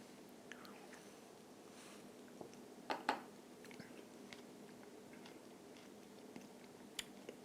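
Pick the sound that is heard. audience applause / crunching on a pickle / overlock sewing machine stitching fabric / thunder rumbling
crunching on a pickle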